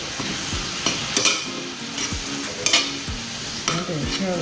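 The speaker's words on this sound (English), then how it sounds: "Continue to stir and blend." Ground lamb with cumin and mint frying in a pan for tacos, a steady loud sizzle with rhythmic spoon scrapes stirring it roughly once a second, close and without speech.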